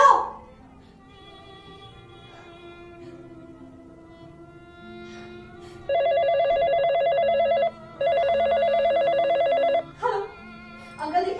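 A telephone rings in repeated bursts as a call is placed, loud electronic trills near the end after a quieter stretch, with someone speaking before and after.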